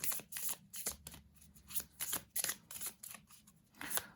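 A deck of oracle cards is shuffled by hand in quick repeated riffles and flicks, soft and close, with no talking.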